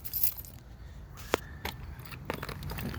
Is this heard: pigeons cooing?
no